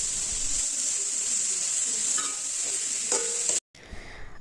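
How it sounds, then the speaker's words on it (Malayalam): Egg stew ingredients sautéed with salt in a pan, a steady loud sizzle with stirring scrapes throughout, cut by a brief silence near the end. "കുറച്ച് ഉപ്പ് കൂടി ഇട്ട് നമുക്കൊന്ന് വഴറ്റിയെടുക്കാം"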